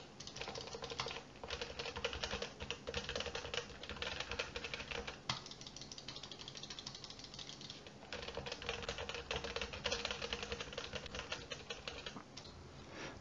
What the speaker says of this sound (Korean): 그러면 키보드와 마우스 버튼을 눌러보도록 하겠습니다.